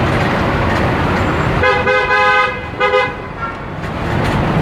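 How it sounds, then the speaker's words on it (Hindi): A vehicle horn honks in busy Mumbai road traffic, sounding in two loud, close blasts, the second shorter, over a constant rush of engines and road noise. "ना हॉर्न क्या बजा रहा है यार."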